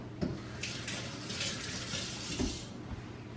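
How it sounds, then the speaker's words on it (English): Tap water running steadily into a kitchen sink while fingers are rinsed under it, a continuous soft hiss with a couple of small splashes, no talking. "Let me rinse my fingers off."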